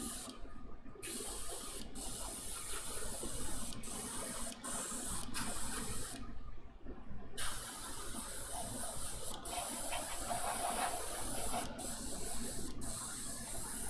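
Bursts of aerosol spray hiss steadily as black primer is sprayed onto a miniature, broken by a few short pauses between passes, moderately close and without any voices.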